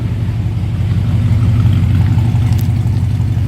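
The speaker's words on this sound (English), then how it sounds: "Slip around to the back so you can hear the car run." A 1955 Ford Customline two-door runs at idle, heard from behind the car: a steady, fairly loud low rumble with an even throb, close up and alone.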